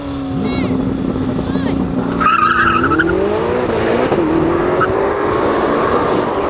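Lamborghini Temerario and Ferrari SF90 launching side by side in a drag race, engines roaring loudly and rising through the gears with a brief tyre squeal, while a driver talks over the noise.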